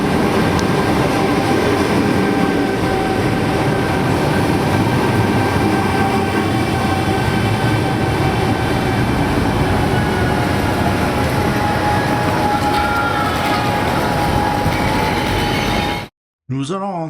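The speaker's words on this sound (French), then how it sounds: "Une rame rouge ABB Siemens arrive avec ses voyageurs." A red ABB Siemens passenger train pulls into a station on a route toward Göteborg, a loud steady rumble of wheels and motors with a high whine, ending abruptly near the close.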